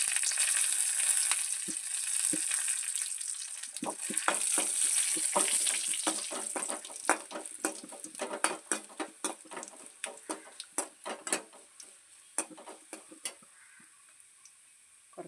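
Shallots and dried red chillies fry in a pan, a steady bright sizzle with clusters of sharp crackles and pops that grow sparser and more distinct toward the end.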